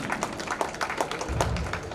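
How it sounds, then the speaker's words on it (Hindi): An audience applauding children's performances at an evening program, steady scattered clapping from many hands with a low rumble toward the end. "ताली इनके लिए भी।"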